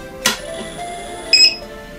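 A sharp click or thump as an RV power inverter switches on, then a short electronic beep chirp about a second later, under steady quiet hum.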